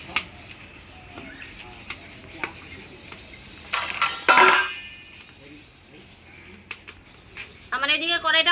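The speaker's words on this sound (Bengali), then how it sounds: "এবার আমি কড়াইটা বসিয়ে দেব।" A large wok (kadai) set down on a lit clay stove, giving a loud metallic scrape and clatter midway that fades into quiet crackling, with faint kitchen clinks around it.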